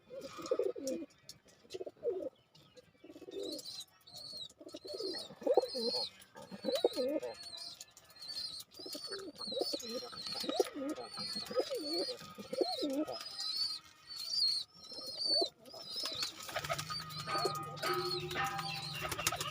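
Several racing pigeons kept at home, with nesting birds on eggs, coo steadily in overlapping rolling phrases, near and clear, with high chirping and brief talk mixed in, and a steady hum near the end.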